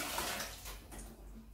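Cool water runs from a tap into a pot of cut potatoes, a close, steady splashing rush with faint clinks of the pot, no talking.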